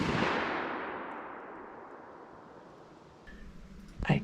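A single loud rifle shot fired at a deer during a Michigan deer opener hunt in the woods, a sharp blast that rolls off in a long fading echo, followed by faint rustling and a small thump.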